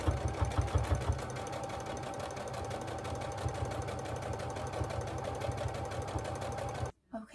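A sewing machine stitches curtain panels with a steady, rapid mechanical chatter, close and continuous before stopping abruptly near the end.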